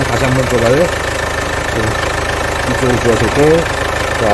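A car engine idles with the hood open during an engine oil change, a steady close mechanical rumble with light knocking, while someone talks over it.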